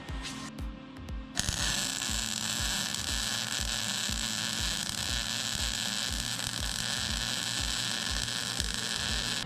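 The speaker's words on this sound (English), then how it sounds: "I'm gonna go ahead and weld this bracket on here." A steel brake bracket is welded onto a frame during a hydraulic disc brake install on a Coleman CT200U-EX mini bike: a continuous, close, buzzing crackle starts abruptly after a short pause and holds steady to the end.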